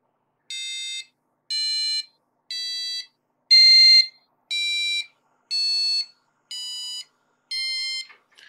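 An Elegoo UNO R3 Arduino buzzer sounds eight short, evenly spaced beeps, each about half a second long with a clear, harmonic-rich electronic tone, loud and close with no voices.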